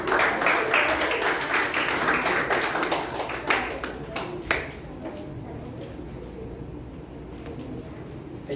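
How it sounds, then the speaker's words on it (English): Audience at a youth leadership meeting clapping for the newly introduced team, a burst of sharp separate claps that thins out and stops about halfway through, leaving quiet room tone and faint murmurs. "Big round of applause to them."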